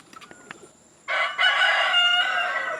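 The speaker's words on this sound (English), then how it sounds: "I'm sitting out here on the back porch of the shop, and the chickens are only a few feet away." A rooster crows loudly just a few feet from the back porch of a shop, one long, close cock-a-doodle-doo that breaks a quiet moment after a few faint clicks.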